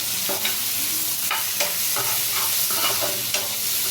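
Tomato is sautéed with ginger garlic paste in a pan for a pepper mushroom gravy, with a constant close sizzle broken by short scraping stirs and no voices.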